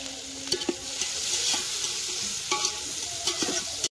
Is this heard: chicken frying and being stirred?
yes